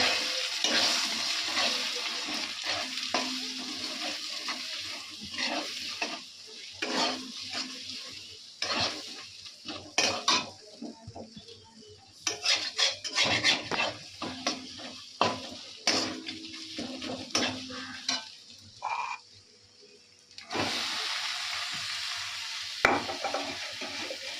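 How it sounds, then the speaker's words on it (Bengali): Bottle gourd, eggs and spices fry in a pan while a utensil stirs and scrapes, giving steady sizzling broken by frequent clinks and scrapes against the cookware, with no talking. "লাউ দেওয়া হয়েছে আমার এখানে ডিমগুলো সব দিয়ে দিয়েছি মশলাগুলো দিয়ে দিয়েছি"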